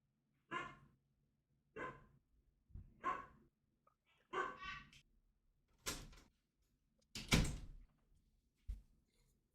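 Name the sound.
dog barking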